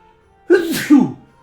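A single close, loud sneeze: a sharp inhaled catch followed by a forceful burst, alone against near silence.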